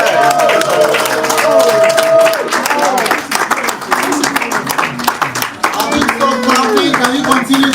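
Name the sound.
crowd clapping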